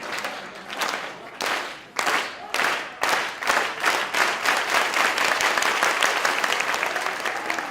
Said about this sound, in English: A hand of applause, please.